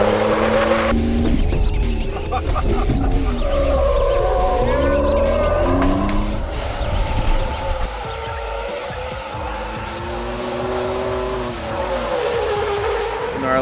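Modified 2018 Ford F150 truck at a SEMA 2017 event, driving hard and sliding with a roaring, rising and falling engine and squealing tires throughout, loud and close, no talking.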